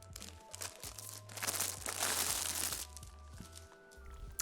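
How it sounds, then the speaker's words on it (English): Plastic wrap crinkling and tearing as it is pulled off a new Luminkey 98 full-size mechanical keyboard, a loud continuous rustle that swells in the middle, close to the mic, with no voices. "let's undo the plastic wrap"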